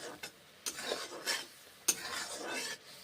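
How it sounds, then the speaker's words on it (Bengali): Apple snail curry being stirred in a pan, a spoon scraping and clinking against the metal in a few strokes over a low sizzle, close and fairly quiet. "কষে কষে রান্না করছি গুগলির তরকারি"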